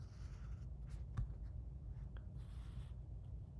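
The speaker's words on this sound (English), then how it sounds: "I'm going to take the Sharpie and I'm going to go along the edge of this, just the outside." A Sharpie marker scratches along the outline of a still-life drawing on paper, a faint, soft, continuous scribble with small taps and squeaks close by.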